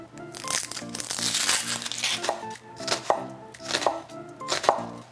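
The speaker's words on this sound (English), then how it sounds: "And then use the claw and chop." A knife chopping an onion on a board, a run of quick rhythmic crunchy cuts close to the microphone, louder bursts in the second half, with no talking.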